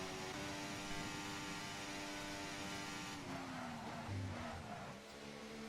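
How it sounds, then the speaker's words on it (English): A Formula 1 car in a racing video game at Imola roars at steady high revs, its tone shifting as it brakes hard, with a brief rough scrubbing burst as a tire locks up. "You hear the tire lock up."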